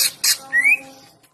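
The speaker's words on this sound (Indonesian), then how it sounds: "Dari segi suara, cucak ijo Kalimantan tidak terlalu nyaring dan lantang, namun punya kelebihan, yaitu memiliki banyak variasi suara." A Kalimantan cucak ijo, the greater green leafbird, calls close by with two harsh, scratchy bursts followed by a clear rising whistled note, then falls quiet.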